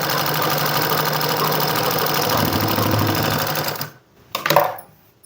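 A sewing machine stitches a girls' coat collar shirt, running in a steady, rapid mechanical whir for about four seconds before stopping. A short clatter follows, and nobody speaks.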